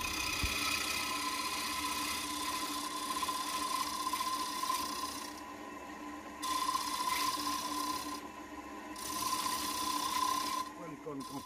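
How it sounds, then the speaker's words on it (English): A Ramo scraper takes a very fine cut inside a wood-turned piece on a running lathe, giving a steady close rasping scrape over the lathe's hum, with brief pauses between passes. "Just touching up the inside with the Ramo scraper and making sure to take the very fine cut."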